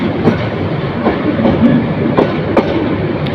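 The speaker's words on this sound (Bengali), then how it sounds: "মহানগর প্রভাতে এক্সপ্রেস ট্রেনটি বিমানবন্দর রেল স্টেশনে প্রবেশ করছে" Mohanagar Provati Express train entering Dhaka Airport railway station at platform one, a loud steady rumble of rolling railcars with rhythmic clickety-clack wheel beats across the rails, no voices.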